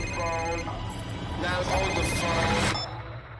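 A flip phone rings with a repeating electronic ringtone, fairly faint and partly under people talking nearby.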